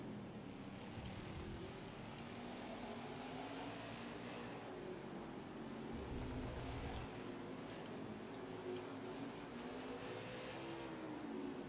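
Race car engine in NASCAR 21: Ignition at Indy road course, a steady, droning roar with slowly shifting pitch as it gasses up and passes, continuous and fairly distant.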